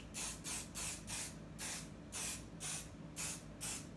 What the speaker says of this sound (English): that's the only place I'm gonna spray and just let it dry